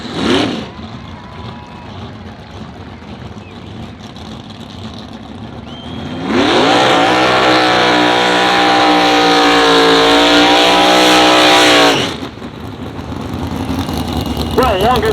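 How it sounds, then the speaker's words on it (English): A wheelstanding drag vehicle at a power-wheelie event roars through a long, loud, sustained burnout of about six seconds, with engine noise and an announcer's voice before and after. "Well, longest burnout of the day without a doubt goes to Chris Pierce at this time"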